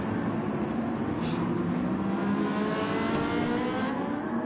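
Ferrari 458 race car in Gran Turismo 7 at Circuit Gilles Villeneuve, engine revving hard in a sustained high-pitched howl, loud and close throughout.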